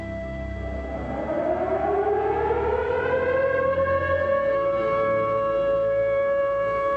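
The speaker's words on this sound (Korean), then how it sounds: "통금 사이렌이 우리 일상의 매정한 마침표로 울리면" A loud curfew siren wails alone, its tone rising steadily over the first few seconds and then holding a sustained, unwavering note.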